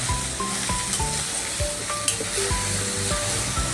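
Drumstick leaves hit hot tempering in a pan, raising a steady, close sizzle with occasional light stirring clinks throughout.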